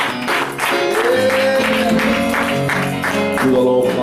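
Church congregation acclaiming with applause and cheering voices, loud and sustained, with clapping bursts mixed into sung or shouted acclamations throughout.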